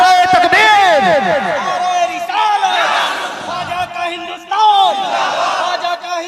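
Large crowd at a Sunni religious gathering roars back in unison to a called slogan, a loud chorus of many voices surging near and dense, dipping briefly then swelling again.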